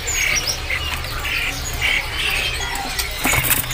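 Caged songbirds in a bird shop kiosk at a market give repeated sharp squawks and chattering calls in bursts, close and fairly loud, with no one speaking.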